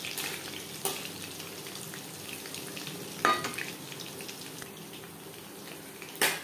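Chicken pakora frying in oil over a medium flame, a constant soft bubbling sizzle with a few louder crackles and clatters now and then, close by and uninterrupted by speech.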